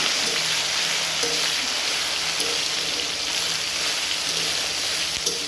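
Onion and spices with ground cumin sizzling in hot oil, a steady bright crackling hiss with small pops throughout, fairly close and unbroken.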